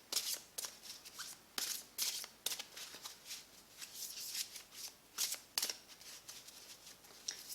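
A deck of tarot cards is shuffled by hand in repeated quick riffles and slaps, a crisp rhythmic run of bursts close to the listener and heard alone with no voices.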